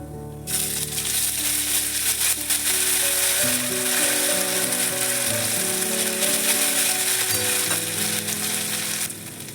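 Ginger and green chili paste hits hot tempering oil for chana dal, bursting into a loud, close, continuous sizzle that holds steady with clinking pan sounds and no talking.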